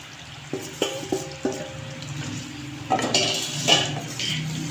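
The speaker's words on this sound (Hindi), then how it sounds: "अब इसके अंदर हमने जो बीफ फ्राई किया था हम ये इसके अंदर डाल देंगे।" Fried beef pieces being tipped into tomato masala in a karahi pot for Peshawari beef karahi, giving a few close metallic clinks and knocks of a utensil on the pot, then a louder wet, sizzling rush of meat hitting the sauce.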